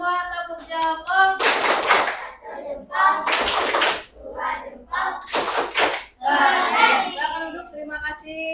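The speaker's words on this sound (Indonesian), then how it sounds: "Tepuk jempol buat kita semua, tepuk jempol." Patterned thumb-clapping by a classroom of pupils, several loud bursts of rhythmic hand claps alternating with children's voices chanting in between.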